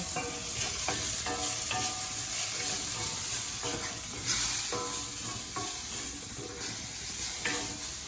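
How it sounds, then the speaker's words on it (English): Mushrooms frying in a hot pan for a beef and vegetable stir fry, giving a steady close sizzle with a few light stirring scrapes and no talk. "So we have our mushrooms are cooking."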